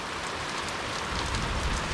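Steady rain falls on a drizzly day after a summer thunderstorm, a dense, even hiss of drops on surfaces that fills the whole moment, loud and close with no voices.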